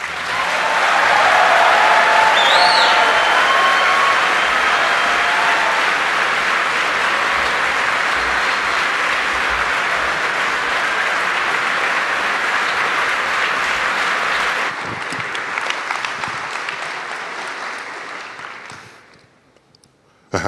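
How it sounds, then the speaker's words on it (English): An auditorium audience at a college Scholars Day applauds a keynote speaker. The clapping is sustained and dense, with a few whoops, then thins out and fades near the end. "So please give another warm welcome to our Scholars Day keynote speaker, Dr. Neil deGrasse Tyson."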